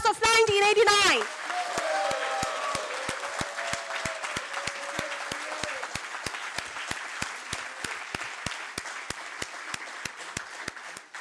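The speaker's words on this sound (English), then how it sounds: "A big round of applause for the class of 1989." A crowd at a class of 1989 reunion breaks into sustained applause after a brief voice at the start; steady, fairly loud clapping continues for about ten seconds and slowly thins toward the end.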